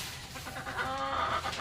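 A chicken clucks and murmurs in short, uneven bursts, fairly close, over a noisy outdoor background during mango picking.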